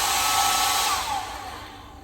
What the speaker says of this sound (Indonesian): Kemudian ada hair dryer ini untuk mengeringkan rambut setelah keramas.